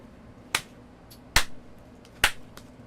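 Three sharp hand claps used to sync a recording before an audio drama archive session, spaced about a second apart, crisp and close in a quiet room.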